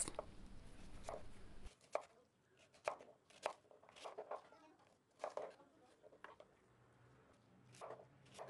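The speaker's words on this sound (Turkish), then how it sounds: "Acurları da bu şekilde verev doğruyorum." A knife chops cucumbers on a cutting board in quick, crisp bursts of taps, close and fairly quiet, with short pauses between the runs of cuts.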